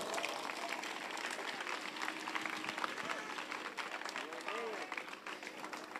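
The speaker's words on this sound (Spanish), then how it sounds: "Dale ese fuerte aplauso a Cristo amado." A church audience applauding at an evening religious event, steady and dense clapping from a crowd, continuous throughout, fairly distant, with voices and shouts mixed in.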